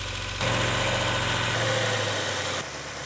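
A car engine, its cracked block freshly repaired, idles loudly and evenly up close, a steady mid-low hum with slight vibration and no talking.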